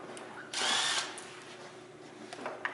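A power tool bursts on for about half a second of loud whirring while bolts come out during a teardown, then a quieter workshop background follows with a few small clicks and knocks.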